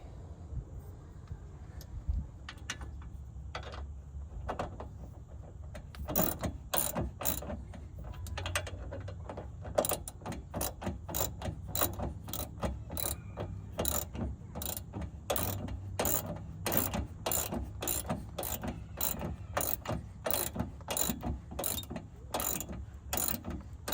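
A ratchet wrench tightens the nut on a rear sway bar end link of a 2015 Chevrolet Camaro, with scattered clicks at first, then a long run of quick, regular ratcheting clicks, close and fairly quiet.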